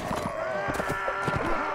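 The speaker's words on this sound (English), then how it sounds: "Alright, so I'm just gonna go charging in my horse." Horse galloping in the video game Mount and Blade Warband, a rapid clip-clop of hooves at close range during a charge, with a steady game background underneath.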